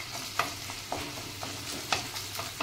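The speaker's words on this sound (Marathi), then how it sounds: "ते बघा आपली बटाटे शिजलेले आहे चांगले तेलामध्ये" Potatoes sizzle and fry in oil in a pan, a steady close crackle broken by a few sharper stirring scrapes and clicks.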